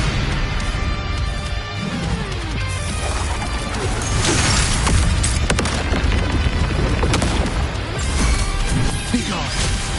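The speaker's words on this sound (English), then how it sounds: "Another mortar thrown at us." Mortar shell explosions in Wuthering Waves: loud crashing blasts and rumbling impacts layered over dense battle noise and music.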